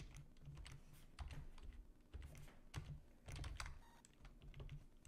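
Quiet, close typing on a computer keyboard while writing a simple Python calculator program, with an irregular patter of soft key clicks and no talk.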